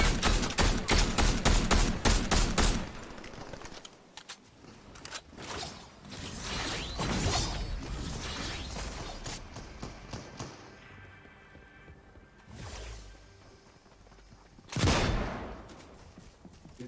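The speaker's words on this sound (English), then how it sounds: "I got a guy shooting up there." Video game gunfire crackles in dense rapid bursts at the start, then eases to scattered shots and mechanical clatter, with a few loud, sudden blasts later on.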